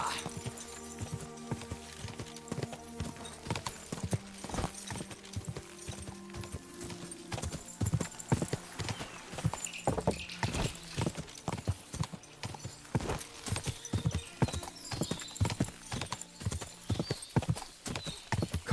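Horse hooves clip-clop steadily in Kingdom Come: Deliverance, a repeated rhythmic walk of crisp knocks that grows denser and louder, with game music underneath and a brief whinny.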